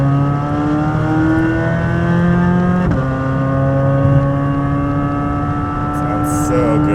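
A Chevrolet Corvette C8 Z06 engine in sport mode holds a loud, steady high-pitched wail with a brief shift blip near the middle, rising slightly before and after, running close and continuous.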